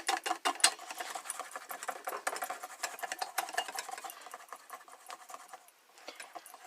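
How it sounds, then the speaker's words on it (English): Wire whisk beating hollandaise sauce in a pan, a quick steady rattle of rapid scraping strokes that runs continuously at close range with no voices. "looks like I'm stuck whisking more"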